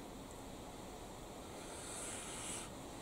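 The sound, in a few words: wind picking up outdoors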